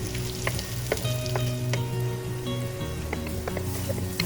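Sliced onions with salt fry in a pan on an open stove, giving a loud, continuous sizzle while a spoon stirs them with occasional light scrapes.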